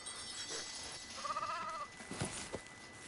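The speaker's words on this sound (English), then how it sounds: "I'm going to come over here and pet these sheep because they do give wool." Sheep in a Lego Fortnite game bleating once, a short wavering bleat over faint game ambience with a few soft clicks after.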